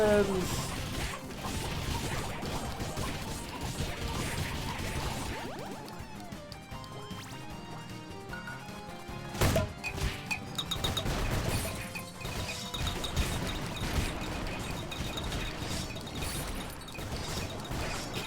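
Explosions from the video game Ninjin: Clash of Carrots mixed into dense, loud game music and effects, with a sharp crash burst near the middle and continual clatter.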